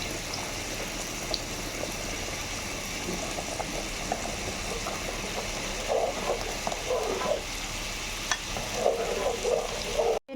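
A spoon scrapes and stirs khichuri in a pan after roasted cumin, coriander powder and ground peanuts go in. Soft, irregular stirring and gentle sizzling sit over a constant low background hum.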